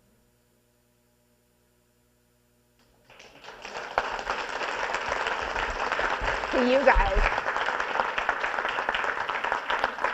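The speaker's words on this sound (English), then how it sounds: "I'm clapping to you all as consumers." After a few seconds of near silence, a crowd breaks into sustained applause, dense and steady, with a brief spoken phrase heard over it.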